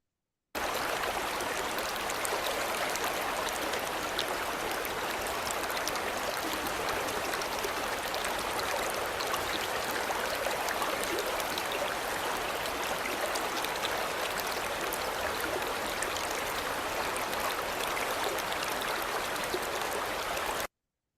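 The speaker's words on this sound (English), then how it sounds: "So this river sound and movement has much more space for the river's story." A river flows steadily, giving a dense, even rush of water that holds at a constant level for about twenty seconds, with no voices or other sounds.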